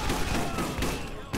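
Rapid repeater gun fire crackles in a dense, continuous burst in Borderlands, loud and close, with a voice talking over part of it.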